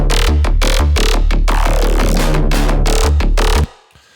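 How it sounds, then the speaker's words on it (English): A Hoover bass synth sample drives the second drop of an electronic track, with pumping, rhythmic chords and thumping kicks that cut off abruptly into a brief tail. "Which kind of features this Hoover bass"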